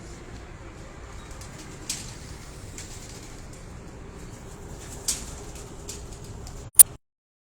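Pigeons kept by a breeder on a rooftop give soft, faint cooing over a low steady background, broken by a few brief wing-flap bursts.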